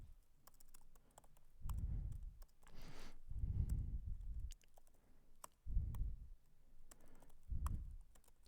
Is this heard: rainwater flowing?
no